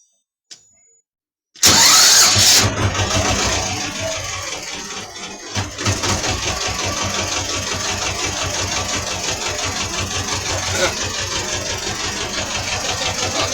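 A T-16 tractor engine cranks after a short silence, catches, and settles into a steady, loud, rhythmic idle that continues to the end.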